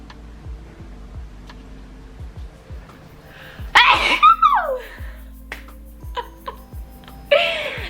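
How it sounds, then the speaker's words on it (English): Faint ticking in a quiet room, then one loud, sharp man's sneeze, followed by brief softer vocal sounds and another short burst. "I have to sneeze."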